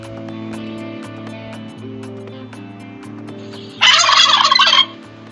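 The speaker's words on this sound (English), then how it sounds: "Turkey bird." A turkey gobbles once, a loud, rapid burst of rattling calls lasting about a second, breaking in over soft background music near the end.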